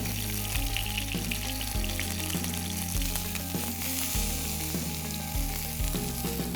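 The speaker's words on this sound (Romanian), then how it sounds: "Acum rumenim și pe laterale." Beef steak searing in a hot pan as its sides are browned, a loud continuous close sizzle with intermittent scraping and shifting sounds as the meat is turned.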